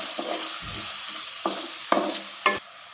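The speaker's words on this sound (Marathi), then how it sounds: "कांदा चांगला लालसर परतून झालाय" Chopped onion for sambar sautéing in a pan, a steady frying sizzle broken by a few sharp spatula scrapes and stirs, close and moderately loud with no talking.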